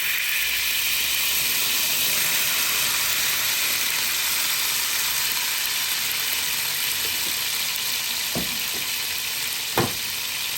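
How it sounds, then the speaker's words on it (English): Hot oil sizzles steadily in a pot while rice with smoked fish is being cooked, a loud, even hiss throughout with a few brief clicks and taps near the end. "Now it's time to add oil to the pot."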